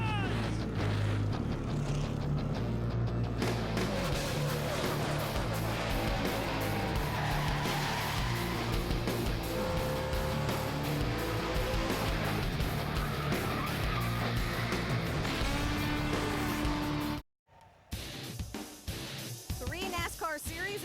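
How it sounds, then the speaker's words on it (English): NASCAR Camping World Truck Series engines fire up and rumble together at Texas Motor Speedway, a dense, loud roar with revving pitches and crowd and announcer voices over it, then a brief cut to quieter sound near the end. "Gentlemen, start your engines!"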